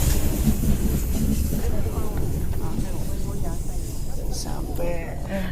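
A train runs along the jungle railway in Malaysia, a loud steady rumble and rattle of wagons on the track with a constant roar, while people talk over it.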